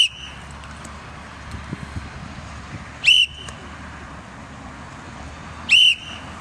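A coach's whistle is blown twice during a middle school football drill: two short, sharp blasts about three seconds apart, loud over a low background of outdoor noise and wind.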